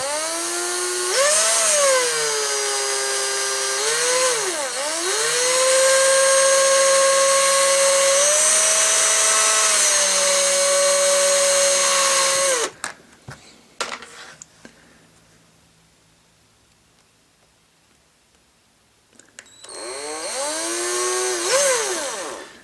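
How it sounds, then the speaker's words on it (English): A high-pitched small drill with a thin bit whines steadily for about twelve seconds, boring into a broken model strut, stops, then after a quiet pause with light handling noises spins up again. "we're now going to drill a hole into both ends of this broken strut"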